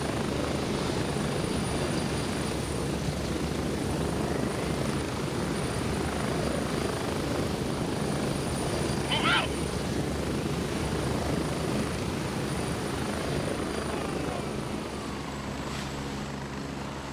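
A helicopter in the video game Gray Zone Warfare drones steadily throughout, its rotor thumping loud and constant, easing slightly toward the end.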